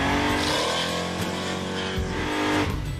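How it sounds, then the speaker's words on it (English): A Chevrolet Impala roars through a rolling burnout, its engine revving loud and close with a continuous strained drone, rising and falling pitch, and a rough tire-scrubbing hiss throughout. "Ready for rolling burnout?"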